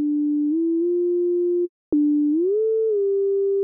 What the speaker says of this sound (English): Let's turn up the glide a bit more for a swooping theremin type sound.